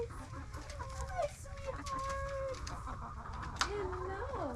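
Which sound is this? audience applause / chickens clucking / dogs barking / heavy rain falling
chickens clucking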